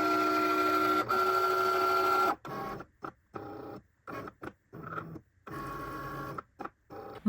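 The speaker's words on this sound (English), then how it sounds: "I use glitter vinyl cutting setting and let the Cricut cut the design for me." A Cricut cutting machine slices a design from glitter vinyl transfer sheet, first a steady motor whine, then a run of short stop-start whirring bursts separated by brief silences, close and fairly loud.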